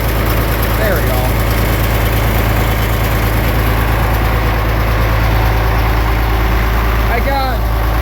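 Combine harvester engine idling close by, a loud, steady low rumble with an even, healthy run throughout, with brief faint vocal sounds over it.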